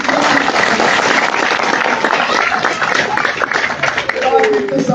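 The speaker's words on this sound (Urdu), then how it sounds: "پہلے تو آئی ایل ایف کے لیے تالیاں بجائیں" Loud, sustained applause from a crowd at a Pakistani political rally, dense clapping filling the whole stretch with a steady roar.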